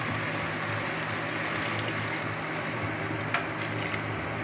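Water being poured into a pan of chicken liver and gizzard adobo with a little vinegar, a steady soft liquid pouring and hiss lasting the whole stretch, close and moderately quiet.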